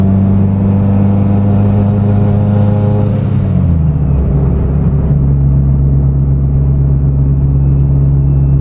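Big-turbo Mitsubishi Evo 9 engine while driving, a loud steady droning rumble close by that drops in pitch partway through as the revs fall, then settles into a lower constant hum.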